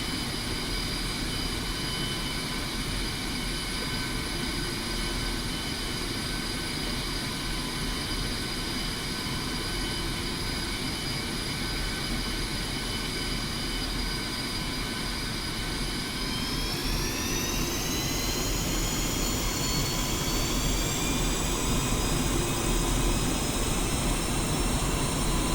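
A jet aircraft taxiing in the DCS flight simulator game gives a steady turbine whine and rumble, with the engine tone rising in pitch partway through as thrust increases. No one talks.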